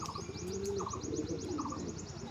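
High-flying Giribaj pigeons coo close by, soft rolling calls repeated in short phrases over a faint steady background, with a rapid chirping series overhead.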